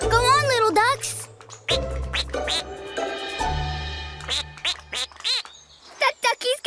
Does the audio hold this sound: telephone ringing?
no